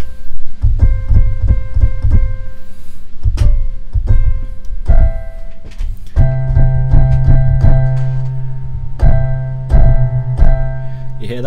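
A keyboard plays a basic rhythm: bright chord stabs over a heavy low bass note, repeated in steady groups with short gaps, loud and close, with no talk over it.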